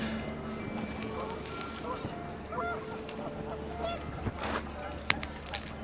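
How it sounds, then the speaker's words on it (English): Panicked geese honk in the video game What Remains of Edith Finch, their calls scattered amid rushing wind and steady background ambience, with a few sharper honks near the end. "The wind picked up, and panicked geese appeared and quickly went."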